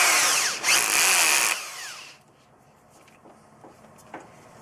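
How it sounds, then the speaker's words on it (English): A power drill with a step drill bit whines loudly for about two seconds while widening a hole to 3/8 inch, its pitch sweeping, then cuts out, leaving quiet scraping and small clicks. "I got to widen them out to 3/8 of an inch."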